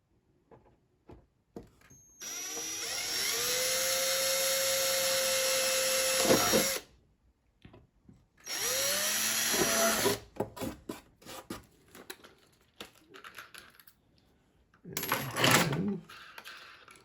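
A power drill whines up and bores pilot holes into wood in two long runs, then a shorter third burst, with clicks and handling noises between.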